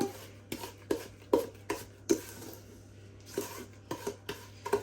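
Easter bread dough being mixed with beaten eggs in a bowl by hand, giving a series of sharp clanks and scrapes of utensil against the bowl at an irregular rhythm, fairly close and with no talking.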